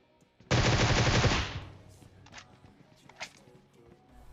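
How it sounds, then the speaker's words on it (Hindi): Gunfire in a battle royale video game: one loud, rapid automatic burst of about a second, then fading echoes and a few faint scattered shots and footsteps. "देखता हूँ कि यार गोली चला कौन रहा था"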